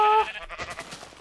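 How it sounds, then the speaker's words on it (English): A Minecraft sheep gives a single short, loud bleat at the start, followed by faint rustling. "Three sheep."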